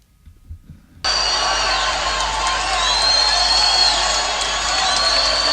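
Boxing arena crowd at the James Toney vs Mike McCallum fight erupting after a second of quiet into a loud, sustained roar of cheering and whooping that holds steady as the fans rise to their feet.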